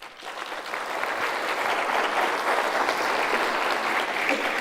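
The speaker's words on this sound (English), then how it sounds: "And a round of applause to them." A large audience at a university graduation ceremony applauds, a dense, steady wash of clapping that builds slightly and holds loud to the end.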